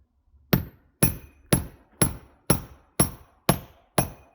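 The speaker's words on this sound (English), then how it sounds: "Usually if you're doing it with like a hammer, small hammer," A small hammer nicks at the edge of a piece of firewood to split it: eight sharp, evenly spaced blows about half a second apart, close and clear, with nothing else in between.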